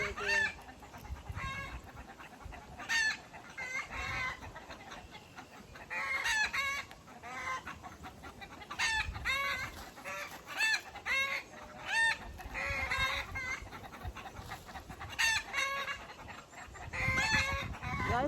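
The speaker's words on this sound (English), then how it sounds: "The chickens all just acting like they laying an egg." Backyard chickens cackle and cluck repeatedly in loud, excited bursts, the egg-laying squawk rising and falling in clusters over soft background noise, with no one speaking.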